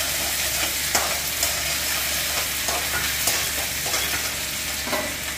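Chillies, ginger, curry leaves, cashews and peanuts fry in hot oil for lemon rice, giving a steady dense sizzle with scattered crackles and the scrape of a spoon stirring, close and unbroken throughout.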